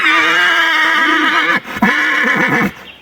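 A stallion neighs loudly and close by in a village, a long shrill whinny broken briefly by a pause and then continuing before it ends abruptly.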